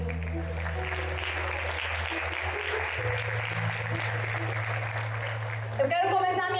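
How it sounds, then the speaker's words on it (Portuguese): Congregation applauding during a youth church service, a sustained wash of clapping over low background music, ending with a louder burst. "aplaude a palavra de Deus"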